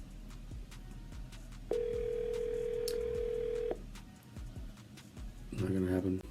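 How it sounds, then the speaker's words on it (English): An outgoing telephone call rings once with a steady electronic ringback tone for about two seconds over faint background noise, followed by someone speaking. "Come on, Dottie, answer your phone"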